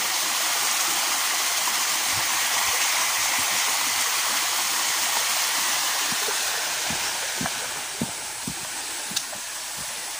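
Water rushes down a stream beside a small footbridge, a continuous close roar of flowing water. Faint scattered clicks and knocks are heard near the end, with no one talking.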